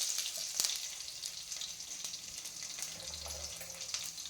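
Mustard seeds, dried red chillies, curry leaves and garlic fry in hot oil for a tomato sambar tempering, giving a steady close hiss with faint scattered crackles and a brief low hum partway through.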